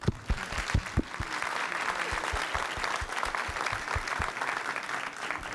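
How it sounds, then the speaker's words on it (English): Audience at an education summit breaking into applause, sharp claps at first settling into steady, dense clapping from a crowd throughout. "Give them a big applause."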